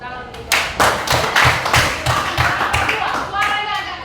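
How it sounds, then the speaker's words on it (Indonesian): A classroom group of children claps in a quick, fairly loud burst of separate hand claps, about eight in a steady rhythm, with faint children's voices under it. "tepuk tangan"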